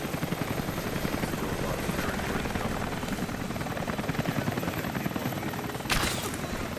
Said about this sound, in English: We'll have to ground the choppers.